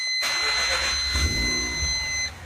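A Mazda RX-8 with an aftermarket exhaust idles with a deep, rumbling resonant exhaust tone and steady high whine, close and loud, dropping off at the end.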